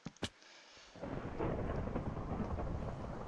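Two sharp cracks of a video-game lightning strike hitting a tree open into a loud, rolling rumble of thunder that fills the rest of the clip with a continuous roar.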